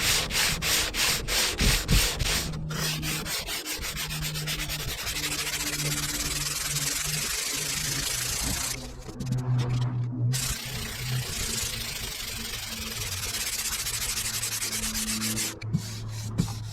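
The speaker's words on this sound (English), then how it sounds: "bunch of sanding and shit" Close, continuous hand sanding of body filler on a BMW E90 car panel, with rhythmic rasping strokes against a hard surface and a couple of brief pauses.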